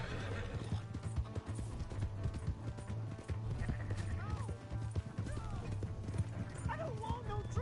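In Red Dead Redemption 2, a horse's hooves clip-clop steadily and the horse whinnies and neighs loudly and close. A dog yips and barks in the background, and people shout throughout.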